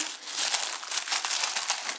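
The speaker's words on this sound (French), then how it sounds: "désolée pour le bruit, mais j'essaie de garder les papiers de soie parce que ça peut toujours servir" Tissue paper crinkles and rustles continuously, close and fairly loud, as a parcel holding fabric coupons is unwrapped by hand, with no talking.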